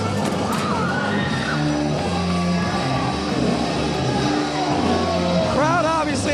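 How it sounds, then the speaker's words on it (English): Crowd at a wrestling event booing and yelling after the winners are announced, a loud dense mass of shouts and jeers with a voice speaking over the noise. "Crowd obviously not happy with these winners"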